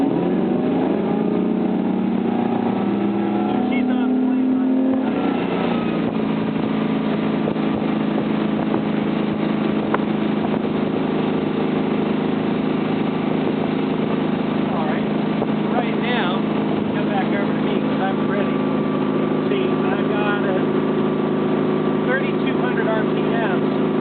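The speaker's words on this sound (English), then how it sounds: "we'll take her to wide open throttle until we get a clean V, and then we'll back her off to cruise speed." Motorboat with a Volvo Penta 8.1 GI Duoprop drive run at wide open throttle, a loud steady engine roar with a shift in pitch near the start, then sustained high-power drone with hull and water noise, a voice talking over it.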